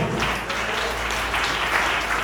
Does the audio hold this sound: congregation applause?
yes